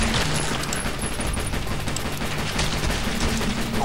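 Rapid pistol gunfire from the video game Zombie Shooter, a dense, steady stream of shots at constant loudness with game effects, no speech.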